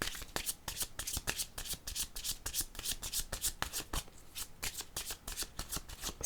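Tarot cards being shuffled by hand, a steady run of crisp riffling flicks close up, repeating rhythmically and uninterrupted by talk.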